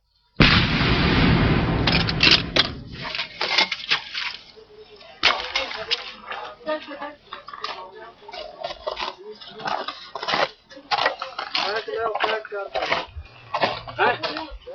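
Artillery guns fire at high altitude on the Siachen Glacier, a loud blast followed by a series of sharp booms and rattling echoes, with shouted commands among soldiers in the background.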